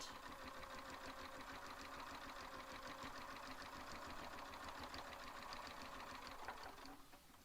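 A sewing machine stitches a quilt, its needle running in a fast, even mechanical chatter that continues steadily and then slows and stops at the end, heard close and alone.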